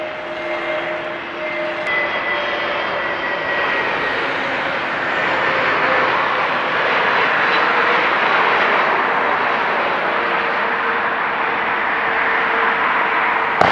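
A China Eastern Airlines Airbus A321 or A320 airliner approaches to land in fog, its engine roar loud and steady throughout, swelling slightly as it draws nearer.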